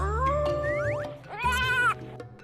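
An old goat bleating twice, wavering nasal cries close by, the second call rising and holding a little longer than the first.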